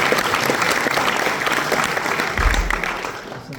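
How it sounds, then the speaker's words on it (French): Festival audience at an evening competition of an Alpine motorcycle adventure festival clapping loudly for a presenter, a dense sustained burst of applause with a low thump near the end. "qu'on applaudit très très fort."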